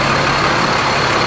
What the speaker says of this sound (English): It's a lot of fire trucks.